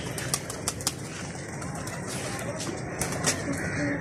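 Pigeons in a backyard pet coop kept alongside chickens and quail, cooing with several sharp bursts of wing flapping over a steady ambient hiss, fairly close and moderately loud.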